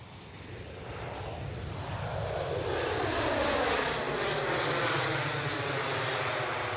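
An airliner arriving to land at Manchester Airport, its engine roar swelling steadily from distant to loud and close overhead, with a sweeping whine and rushing air, no talking.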